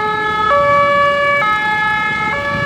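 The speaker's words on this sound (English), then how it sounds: "Ambulances." A two-tone ambulance siren alternates between high and low pitches, loud and continuous, switching roughly every second.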